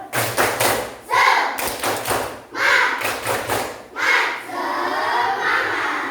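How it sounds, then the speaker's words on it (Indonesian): A school class repeats its rhythmic cheer clapping, three loud grouped bursts of sharp unison claps and thuds separated by short pauses, with a few voices under them. "Oke, coba sekali lagi biar tambah semangat."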